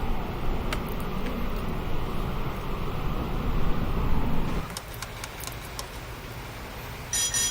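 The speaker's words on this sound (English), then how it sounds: "all engines full reverse now" Ship engines running full reverse in Microsoft Flight Simulator 2020 produce a loud, low broadband rumble and wash that cuts off abruptly partway through. Quieter ambient noise and a few faint clicks remain afterward.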